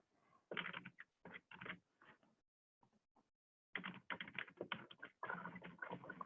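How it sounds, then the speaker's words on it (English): Fast bursts of typing on a computer keyboard, close and clear, with rapid key clicks in several runs separated by short pauses. "You can see my lovely typing skills."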